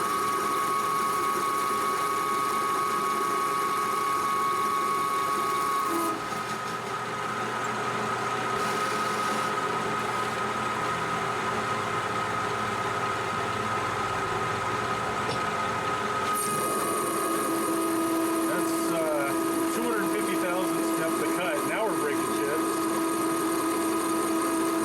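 Metal lathe turning at 300 RPM while cutting metal, a steady mechanical whine and hum for about 25 seconds that changes tone partway through, with speech at points.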